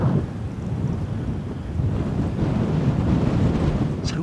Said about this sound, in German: Ja, da ist mir zu windig.